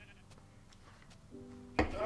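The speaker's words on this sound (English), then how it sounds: "Oh my god, it's a black sheep." A black sheep bleats once near the end in the video game Minecraft, a short, loud bleat rising over a quiet, low background hum.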